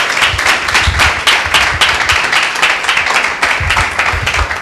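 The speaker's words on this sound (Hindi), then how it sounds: "एक जोरदार ताली प्रभु यीशु मसीह के नाम को देते हैं" A church congregation at a Sunday meeting claps loudly together, a dense sustained burst of applause filling the hall with steady, close, slightly uneven hand claps throughout.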